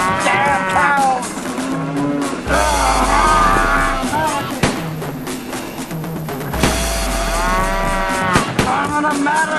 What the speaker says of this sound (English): Damn cows!